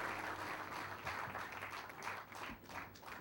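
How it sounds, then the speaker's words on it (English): Audience applause at a corporate event for the JPS Bogue gas conversion project, steady dense clapping from a crowd lasting throughout, moderately loud with no talk over it. "Let's give Joseph a big clap and a round of applause."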